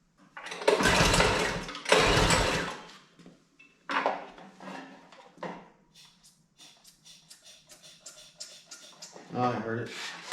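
Yardmax snow blower engine being pulled to start, with several loud rattling pull-cord bursts early, then weaker irregular sputters and clatter, and a brief rough catch near the end, with someone talking between attempts.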